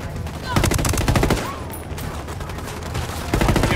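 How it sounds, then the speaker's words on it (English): Heavy sustained gunfire from enemy fighters in the video game Ghost Recon Wildlands, dense overlapping shots and bursts hammering continuously at close range with no pauses. "Those Sicarios are shooting the hell out of this emitter."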